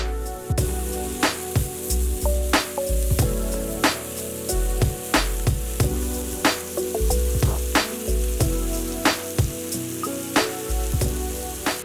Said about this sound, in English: you want to cook your mushrooms at a medium to high heat